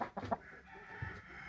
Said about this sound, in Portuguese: Galo de porte bom.